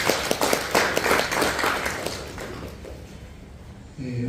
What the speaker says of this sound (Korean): 격려의 박수를 보내시기 바랍니다.